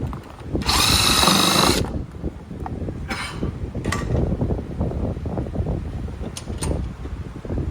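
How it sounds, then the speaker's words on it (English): A power drill whirs in a loud burst, drilling out plastic on a Dodge Hornet side splitter mount, followed by shorter bursts amid clattering handling noises and rustling. "we're going to drill the plastic out"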